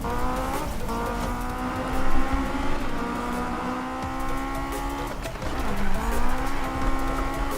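Racing car engine in Need for Speed 2015, played on a Logitech G27 wheel, revs and shifts through gears steadily across the whole stretch, loud and close, with tire squeal and no talking over it.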